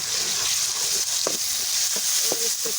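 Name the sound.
garlic added to browned onions, frying in a pan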